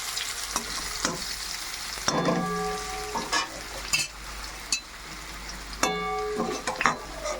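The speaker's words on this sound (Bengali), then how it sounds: "আলুটা সুন্দর মতো ভাজা হয়ে গেছে" Potato pieces fry in oil in a pan used for a Bengali boal fish curry, with a steady sizzle close by, a few metallic spatula clinks and scrapes, and bursts of louder spitting as the potatoes are moved.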